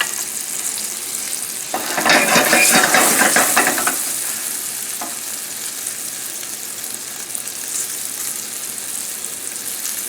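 Salmon sautéing in a pan gives a steady sizzle and crackle that swells loudly for a couple of seconds, then settles into a softer, continuous frying hiss with no talking.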